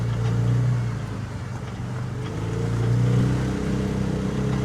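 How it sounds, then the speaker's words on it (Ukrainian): Generator on a Sokmoto Cargo Max hybrid tricycle runs with a steady, close, low engine drone, its pitch rising and falling slightly as the revs change. "Працює генератор. Коли ви даєте газу, він піднімає оберти."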